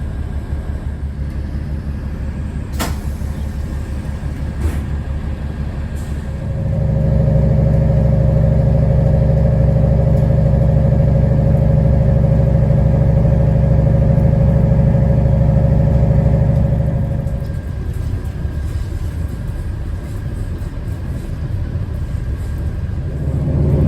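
An electric FEVE 3300 series narrow gauge train on the Gijón line in Spain, a steady low drone that swells into a loud sustained hum for about ten seconds and then fades back to a quieter rumble, with no voices.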